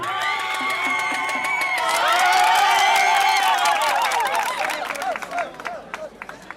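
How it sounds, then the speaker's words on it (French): A crowd cheers and claps loudly, the noise swelling to a peak and then breaking into scattered clapping as it fades. "Maintenant, je vais vous demander de continuer à applaudir très très fort"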